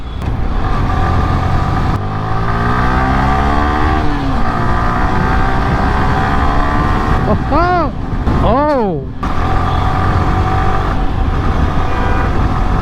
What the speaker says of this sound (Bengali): ব্রেকিংটা ঠিক আছে ইঞ্জিন সাউন্ডও ঠিক আছে and exhaust sound throttle response সব মিলায়ে ঠিক আছে